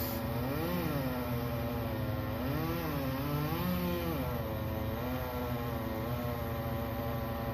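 A chainsaw cuts a large branch during a dangerous tree removal near a house, a steady droning engine whose pitch rises and dips as it bites into the wood, continuous and moderately distant.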